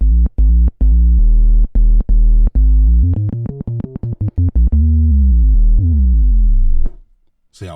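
Moog Subsequent 37 bass synth playing a growling, buzzy bass line with multi-drive distortion, loud and alone: rhythmic staccato notes giving way to faster runs and a sliding tail before fading out.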